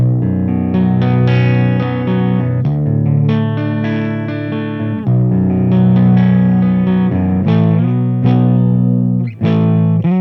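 Loud, driven electric guitar through a Mesa Mark V amp with the bold switch on, full and bass-heavy, playing continuous chords and melodic runs with brief gaps, close up.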